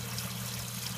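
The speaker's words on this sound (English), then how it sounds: "And then we siphon the water here, that pumps it up to there" Aquarium water being siphoned out during tank cleaning, a steady soft trickle and gurgle with a low pump hum, close and continuous.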